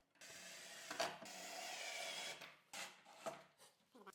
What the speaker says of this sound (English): I just had to drill some holes and cut it away real quick